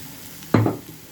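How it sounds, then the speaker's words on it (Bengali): Vegetables for vegetarian chow mein are stirred in a frying pan: a single short, loud scraping toss with a brief sizzle, then quiet. "নুন দেওয়ার পর একটু ভালো করে সবজির সঙ্গে মিশিয়ে নেব।"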